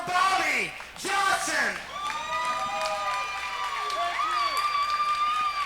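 A fight-event crowd cheers, whoops and applauds as fighter Bobby Johnson is introduced, a loud, sustained roar of many voices with rising shouts layered throughout.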